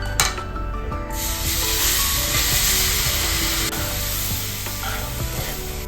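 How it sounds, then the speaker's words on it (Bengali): Water poured into a hot pan bursts into a loud hissing sizzle that swells and then settles into steady bubbling frying, heard up close. "অল্প করে জল আমি দিয়ে দিচ্ছি"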